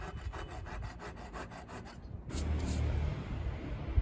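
A wooden electric guitar inlay is trimmed with a hand saw in a rapid, even run of close rasping strokes, then a brief pause before a rougher, steadier scraping.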